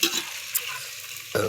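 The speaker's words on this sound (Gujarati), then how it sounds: "તળવા નાખી દીધા" Corn flakes frying in a pot of hot oil for homemade chavanu, a soft, steady sizzle and bubbling heard close up, with a short louder burst at the end.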